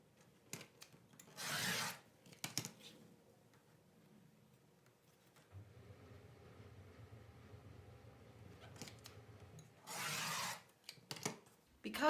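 Quilt fabric cut into long binding strips 2.5 inches wide, with two loud rasping strokes of a rotary cutter across the cloth on a mat, separated by quiet handling and a low hum.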